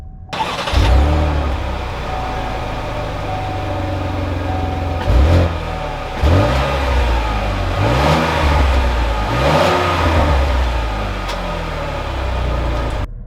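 A 2021 Chevrolet Blazer RS engine revs loudly and close by as the SUV drives off, the engine note rising and falling in repeated surges with no talking.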